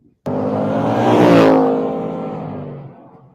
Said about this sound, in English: This car is loud out there.